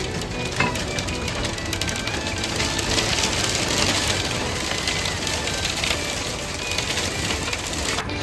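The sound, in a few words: hail and heavy rain hitting a boat in a storm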